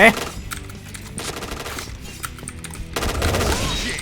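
Automatic weapon fire from the online shooter Point Blank, with rapid bursts of gunshots at the start and a longer sustained volley near the end, loud and close, separated by quieter stretches.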